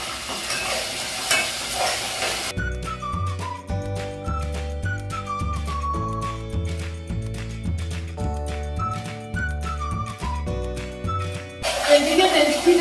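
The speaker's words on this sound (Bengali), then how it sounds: "এদিকে রেসিপিতে চিকেনের মশলাটা কষিয়ে নিচ্ছি" Chicken masala sautéed and stirred in a pan with green chillies, giving a steady sizzle and scraping at the start and end, while music plays loudly over the middle stretch.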